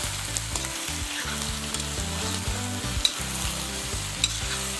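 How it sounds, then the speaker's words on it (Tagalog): Pork spare ribs frying and sizzling loudly in a pan, a dense crackling hiss with occasional sharp pops and scraping as it is stirred. "Pabayaan muna nating maprito-prito o magisa-gisa ang ating karne."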